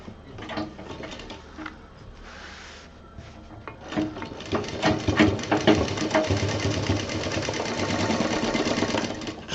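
A sewing machine stitching a zipper onto a handbag, quiet bursts of motor whirring and needle rattle that start and stop, then run in a longer continuous stretch.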